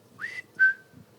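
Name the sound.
imitated whistling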